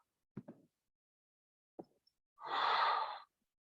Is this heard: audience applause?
no